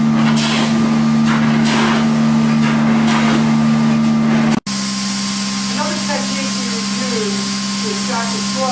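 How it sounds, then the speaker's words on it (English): A carpet extraction cleaning machine used on wall-to-wall and area rugs runs with a loud, steady motorized whine and hum. It cuts out for an instant midway, then resumes just as strongly. "This is a typical kind of extraction that one can use in cleaning carpets wall to wall and also area."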